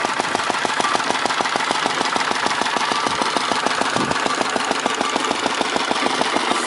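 A vintage McCormick Deering stationary engine runs a wood splitter, its steady rapid chugging beat loud and close throughout with no talk.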